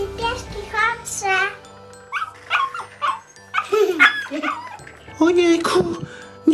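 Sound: small dogs barking in video game Spinny Pets

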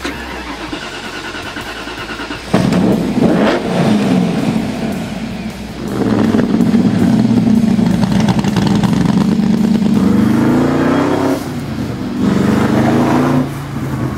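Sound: AC Cobra Shelby sports car engine running

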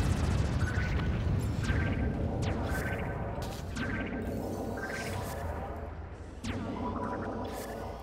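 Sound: explosions from firing on allied city in video game Spore

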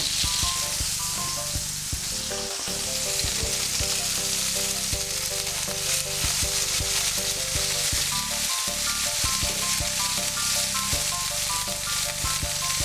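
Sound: pork tenderloin frying and being stirred in a pan

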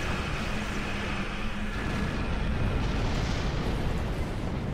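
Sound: torpedo explosions in a video game

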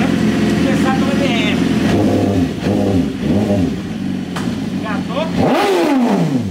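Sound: motorcycle engine revving, riding off

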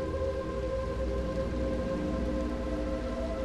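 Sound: rain in the video game Little Nightmares II

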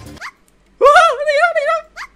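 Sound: puppy whimpering in Minecraft video game

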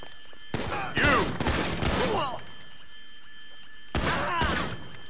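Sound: gunfire in video game Grand Theft Auto V

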